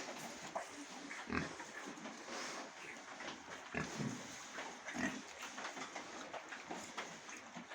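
Piglets grunt and snuffle steadily over a noisy barn background, with occasional louder oinks standing out; no talking.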